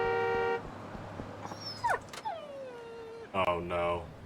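A dog in the video game Yakuza 5 gives a few short yips and whimpers amid sustained electronic tones and other game sounds, mid-level in loudness.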